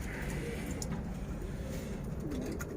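Pigeons cooing on a rooftop loft, a continuous low murmur of coos and soft bird calls from a flock nearby, steady and fairly loud with occasional brief chirps over it.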